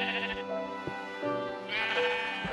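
Sheep in the Minecraft video game bleating close by, several drawn-out, wavering baas in quick succession with short clicks between them, clear and alone without talk.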